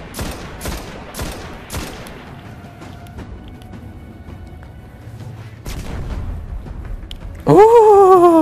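Gunfire in the video game Destiny during a solo heroic strike: a rapid run of sharp, loud shots in the first two seconds, another burst later, then a rising electronic whine at the end.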